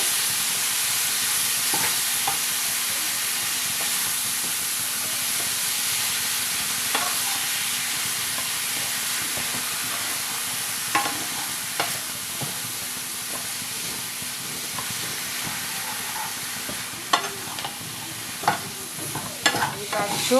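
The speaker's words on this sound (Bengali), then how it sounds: "এবার সবগুলোকে কষিয়ে নিতে হবে।" Mushroom masala sautéed in a pan, restaurant dhaba style, giving a steady close sizzle with scraping stirs of a spatula and occasional sharper clicks against the pan throughout, no voices.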